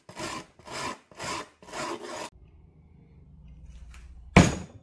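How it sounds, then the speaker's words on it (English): Wire scraper tool scratching popsicle-stick wood in four rhythmic rasping strokes, followed by a near-silent pause and a single sharp knock. "This wire tool adds those long weathered scratches you'd find on old wood"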